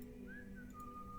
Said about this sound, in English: But I hear whistling.